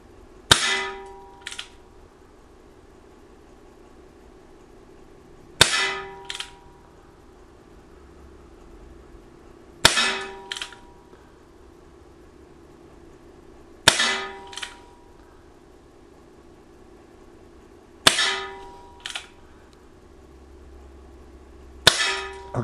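Six sharp metallic clangs of pellets from an Umarex Legends Ace in the Hole single-action pellet revolver striking a target, evenly spaced about four seconds apart, each with a brief ringing tail over quiet background.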